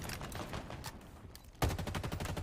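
Rapid gunfire from a bot firing into a wall in Halo Infinite, bursts of close shots through the first stretch, then a louder, denser volley that hammers on to the end.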